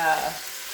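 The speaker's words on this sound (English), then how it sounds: "And all we're gonna do is just brown this down. Just like you would brown any other type of ground sausage." Plant-based ground sausage browns in a pan with a short, close burst of sizzling and stirring that fades quickly.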